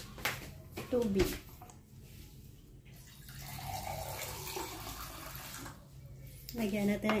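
Water trickles and pours into a bowl of banana fritter batter made with a little sugar and salt, a soft, steady liquid splash running for several seconds between bursts of nearby talking.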